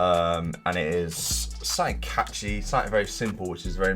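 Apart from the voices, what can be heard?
No everyday noise stands out behind the speech.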